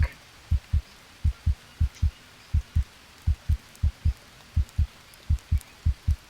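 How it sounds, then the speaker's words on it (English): Heartbeat sound effect in the VR survival game GHVR: steady paired low thumps repeating at an even, moderate pace, clear and isolated against a faint background hum. "it doesn't necessarily sound like the heartbeat is getting slower or faster"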